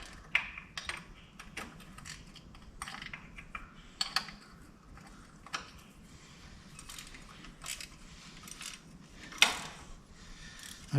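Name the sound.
ratchet wrench turning on an IH 720 plow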